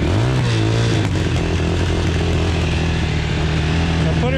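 A choked ATV engine revs hard and stays loud, a raspy, buzzing roar that rises in pitch at the start and then holds near full throttle, close by and steady.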